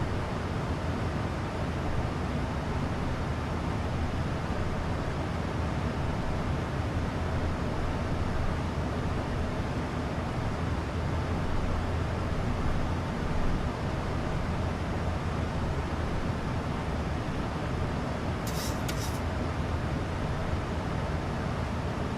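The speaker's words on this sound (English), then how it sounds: "So they developed the engine sounds for the Max." Engine sound of a Boeing 737 Max in Microsoft Flight Simulator 2020, a loud continuous jet roar with deep bass, steady and unbroken throughout, with a brief faint click late on.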